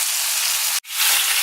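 Fish frying in a pan, a steady broadband sizzle that holds loud and close, drops out for an instant partway through, then returns just as strong.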